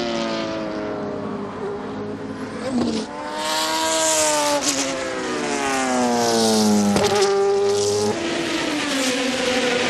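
Intersport Racing Lola sports prototype from the 2006 American Le Mans Series, its engine screaming loudly through repeated rising and falling revs as it passes near, with gear changes audible along the way.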